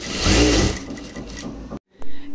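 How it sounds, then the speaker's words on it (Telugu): A lock stitch sewing machine runs in a quick, close mechanical whir that stops abruptly, then a brief restart after a short silence. "అందుకే దీన్ని లాక్ స్టిచ్ మిషన్ అంటారనమాట."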